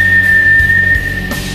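A person whistles one sustained, steady high tone that is loud and close, held almost unbroken for over a second before fading slightly, with no talking.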